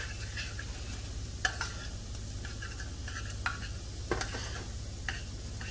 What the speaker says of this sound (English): And just start kind of stirring that together